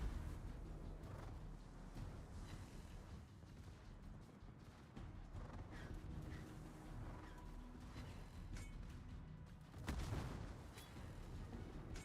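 Naval guns fire at an enemy turret in a World of Warships battle, a stretch of low rumbling booms and gunfire with one heavier blast near the end, all fairly quiet in the mix.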